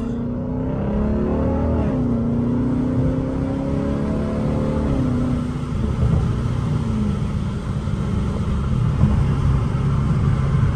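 A straight-piped, supercharged Dodge Challenger Hellcat roars inside a tunnel. The engine is loud and close, rising and falling through revs, and a heavy rumble echoes off the walls throughout, with no talking.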